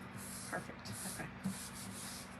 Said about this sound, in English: That way I'm only sanding one side.